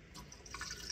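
Water poured into a blender holding freshly squeezed lemon juice while making strawberry lemonade, a short, quiet trickling splash with no talking.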